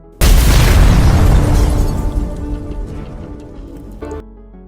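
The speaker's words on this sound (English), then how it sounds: "Maria immediately blew up the factory." A factory explodes in a sudden, massive blast with a deep rumbling boom that hits at once, then rolls and decays over several seconds, close and very loud with no voices.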